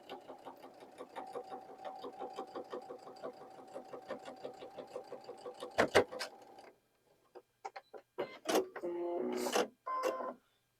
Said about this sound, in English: Boy, that last stitch my machine really didn't like.